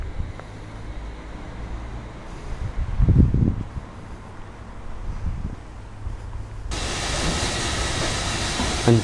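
A steam locomotive of the Launceston Railway, a narrow-gauge heritage line, approaches amid outdoor ambience, with low rumbling and rhythmic clanking building, then a loud sustained hiss of steam taking over near the end.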